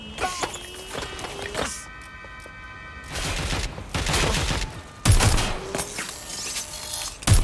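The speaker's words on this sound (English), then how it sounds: "Shots fired! Shots fired!" Gunfire in the Watch Dogs Legion video game during a vehicle pursuit: bursts of rapid shots mixed with engine and mechanical whirring, loud and dense throughout, with harder impacts near the end.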